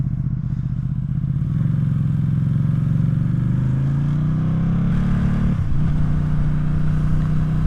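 Loud, unsilenced Arrow exhaust on a Ducati Streetfighter pulling hard: a harsh, close engine roar climbs steadily in pitch, dips sharply at a gear change near the end, then carries on strongly.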